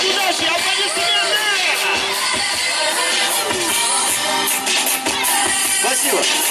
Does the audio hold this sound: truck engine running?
no